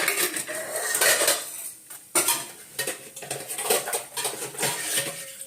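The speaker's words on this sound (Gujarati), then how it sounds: "અને હું ભાત વઘારું છું અહીંયા આગળ." Pots, pans and metal utensils clatter and clink close by in a home kitchen while rice is being tempered, with irregular bursts of scraping and knocking and no speech.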